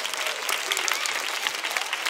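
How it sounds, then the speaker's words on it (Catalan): Applause from a theatre audience at a children's cantata concert in l'Hospitalet de Llobregat, dense steady clapping filling the whole stretch with no pauses. "També un aplaudiment per ell,"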